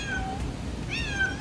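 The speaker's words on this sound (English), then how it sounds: "This cat is back." A cat meows twice, close and fairly clear: one drawn-out call, a short gap, then a second rising meow over a quiet room background.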